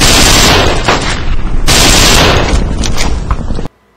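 Dense, continuous gunfire from the World War II shooter game Brothers In Arms: Earned In Blood, rattling bursts of rifle and machine-gun shots layered loud and close, briefly dipping around mid-clip before cutting off abruptly near the end.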